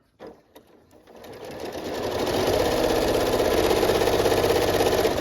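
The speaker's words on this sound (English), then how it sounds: "Put your needle down again, or your feet down, and you're going to do another quick back and forth stitches." A sewing machine stitches quickly back and forth. A few short clicks come first, then the motor whirs up into a loud, steady mechanical hum that runs close and unbroken to the end, with no one speaking.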